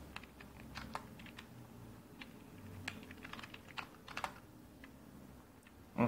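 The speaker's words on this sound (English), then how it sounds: "Type our username." Username being typed on a computer keyboard during a Linux desktop setup, with quick, uneven key clicks in short bursts, fairly quiet and close, and no talking.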